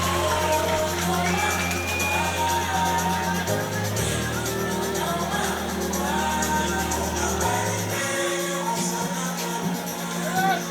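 Boxing fans cheering at a fight night held in a market venue, heard as a steady crowd roar with shouts and whoops under loud music, continuing for the whole stretch.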